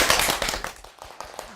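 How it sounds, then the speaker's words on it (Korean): Audience at a bookshop author talk clapping to welcome the author, a burst of sharp hand claps that thins out and fades over a second and a half. "박수로 맞아주세요."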